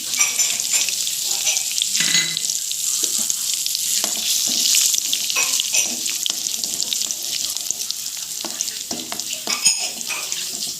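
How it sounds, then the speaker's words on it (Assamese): Cumin seeds, a piece of cinnamon and three dried chillies hitting about 150 grams of hot oil in a kadai, a loud, continuous crackling sizzle with sharp pops scattered across the whole stretch, no voices. "তেল দিলোঁ প্ৰায় 150 গ্ৰামমান। জিৰা অকণমান দিলোঁ ফুটিবলৈ, তাতে ডালচেনি এটুকুৰা দিলোঁ, 3টা জলকীয়া দিছোঁ"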